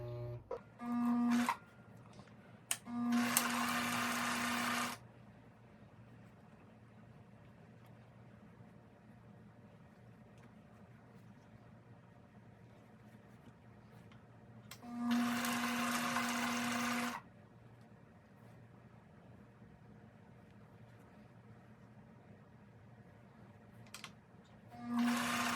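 A sewing machine stitching quilt squares runs in three short bursts of fast whirring, with quiet pauses and faint handling noises between them.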